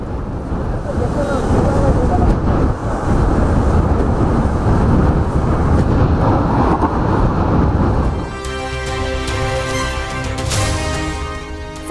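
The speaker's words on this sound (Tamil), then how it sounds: "பெஞ்சல் புயல் கரையை கடந்தபோது வீசிய சூறை காற்று." Loud, buffeting gale wind from Cyclone Fengal making landfall in Chengalpattu district, India, roaring against the microphone, then shifting to a steadier rushing drone with tonal hum near the end.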